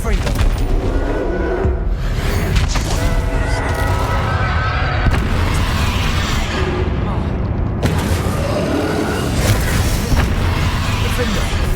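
Confringo fire blast spells exploding in a Hogwarts Legacy battle, repeated loud booming blasts with crackling bursts amid ongoing combat effects and a voice shouting spell names throughout.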